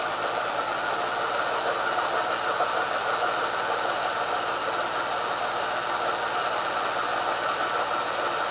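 An NGF-110-Sh4 milling machine runs at raised spindle speed, a continuous loud whirring drone with a steady high-pitched whine on top, close and unbroken throughout, with no voices.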